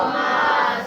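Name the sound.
crowd responding with salawat chant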